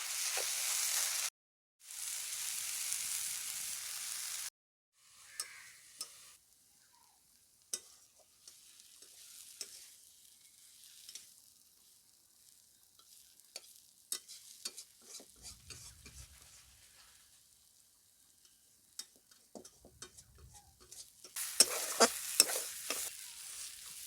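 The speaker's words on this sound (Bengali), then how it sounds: "আমি কম আঁচে কচু শাকটা আরও ভালোভাবে শুকিয়ে নেব" Taro leaves cooked with shrimp being stirred and dried out in a pan over low heat: intermittent spatula scrapes and clinks over a soft sizzle, with a louder hiss in some stretches and no talking.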